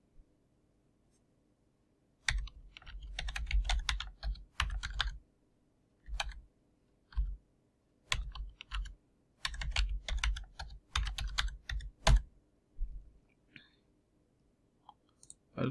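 Someone types a password on a computer keyboard, the soft key clicks coming close and fairly quiet in irregular clusters with short gaps.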